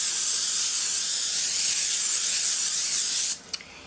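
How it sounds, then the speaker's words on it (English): A can of cooking spray hisses steadily onto a baking rack for about three seconds, a loud, close spray that cuts off abruptly, followed by a couple of small clicks. "we're going to spray the rack. I have some cooking spray here"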